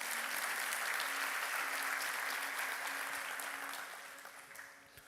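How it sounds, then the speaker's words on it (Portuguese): Congregation applauding in a church service, a dense, steady wash of clapping that holds strong for several seconds before thinning and fading away toward the end. "Aplauda Jesus."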